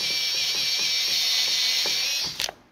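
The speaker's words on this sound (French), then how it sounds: "on va enlever les vis" A powered screwdriver whines steadily with a ticking ratchet pulse as it backs screws out of the metal cage of an iMac G3, then stops with a few clicks.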